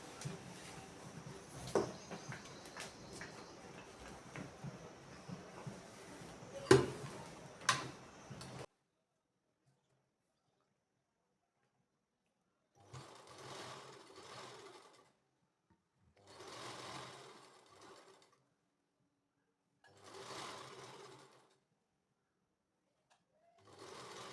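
A sewing machine stitches a panel kurti with a rapid, close mechanical ticking. One long run is followed by silence and then several short bursts of stitching.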